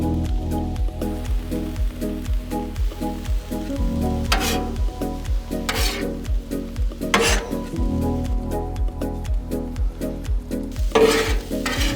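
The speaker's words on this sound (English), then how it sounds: "we're gonna go ahead and fry these peppers and onions" Peppers and onions fry on a Blackstone griddle in a backyard, a close, continuous sizzle with steady rhythmic scraping from stirring and a few sharper spatula clacks.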